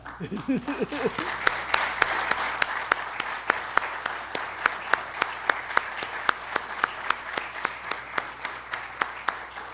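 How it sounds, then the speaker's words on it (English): Steady applause from an audience at the closing ceremony of the WITFOR 2016 conference, warm sustained clapping with a few louder distinct claps standing out through the whole stretch. "So let me express my thanks to Gabriela with a strong applause"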